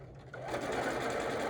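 A sewing machine running steadily along a quarter-inch pillow seam, a brief close mechanical whir that builds quickly and holds.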